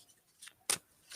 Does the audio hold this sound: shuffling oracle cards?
yes